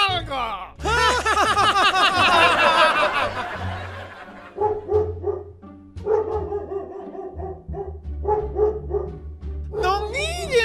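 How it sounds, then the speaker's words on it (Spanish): Dog barking in a comedy skit, loud repeated barks in a dense burst at first, then shorter spaced barks mixed with people laughing and talking. "¡Paró de ladrar!"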